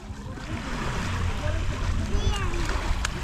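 Water splashes continuously as people bathe at a beach, a steady wash of splashing and surf close by, with voices of adults and children talking over it.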